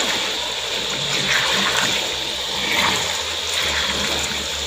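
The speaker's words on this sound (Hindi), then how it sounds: "चिकन के फ्राई होने की आवाज़ आने लग गई है।" Chicken frying in oil in a karahi for street-style Peshawari charsi karahi, a steady loud sizzle and crackle that holds throughout without pause.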